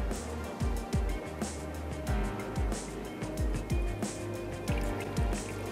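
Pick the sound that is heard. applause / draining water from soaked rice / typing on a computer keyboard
draining water from soaked rice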